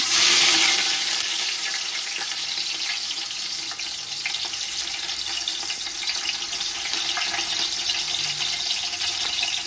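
Onions, green chillies and whole spices dropped into hot oil for mutton biryani give a loud, steady hiss and sizzle that swells at the start and runs on without a break, with no talking.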